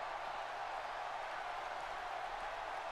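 Crowd cheering and applauding in the WWE 2K17 wrestling video game, an NXT arena audience on its feet, heard as a steady, dense roar of noise throughout.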